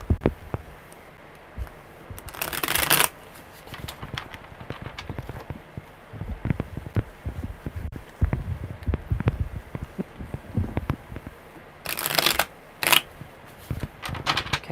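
A deck of tarot cards is shuffled by hand during a live one-card reading. Close riffling and flicking bursts come in bouts, with two louder, sharper runs, and no talk.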